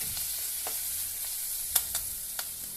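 Dried red chillies sauté in a pan for banana-flower poriyal, giving a steady close sizzle with a few sharp clicks and scrapes of stirring scattered through.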